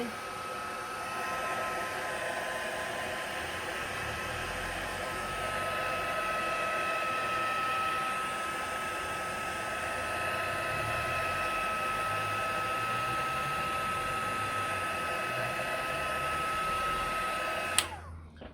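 A hair dryer blows air across wet watercolor marker ink, giving a steady, close, whining whoosh that holds at an even level before cutting off abruptly with a click near the end.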